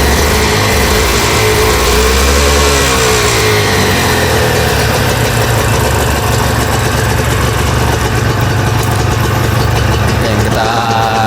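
Yamaha TZM 150 two-stroke sport motorcycle engine running steadily, a loud, close idle with a raspy mid-range buzz and a couple of brief rises in revs.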